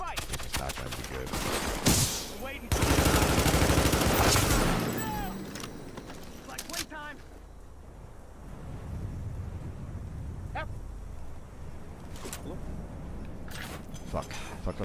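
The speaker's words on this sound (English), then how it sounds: "Oh boy, they got a heavy gun." A heavy gun opens up in The Division Survival, a loud sustained burst of rapid automatic fire for a few seconds, then scattered shots and wind-like roar, with someone talking over the noise.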